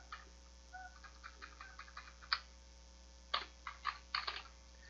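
Computer keyboard typing during CAD and Revit drafting, a sparse run of faint clicking keystrokes in irregular bursts with a few louder key presses over a steady low electrical hum, with no talking.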